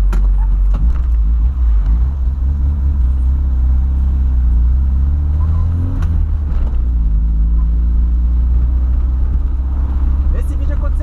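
A Volkswagen Voyage with carburetor trouble holds a loud, rough idle, its low engine drone steady with a few uneven revving surges while people talk over it.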